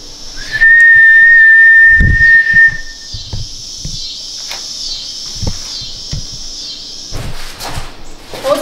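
A person whistles a single sustained high note, clear and fairly loud, followed by faint knocks and background noise inside an abandoned hospital.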